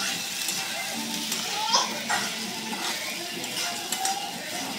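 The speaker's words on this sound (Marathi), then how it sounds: "एक वेळा अजून परतून घ्यायचं." Sabudana usal being sautéed and turned in a pan, with a steady soft hiss, scattered scraping clinks of a spoon against the metal, and a few sharper knocks.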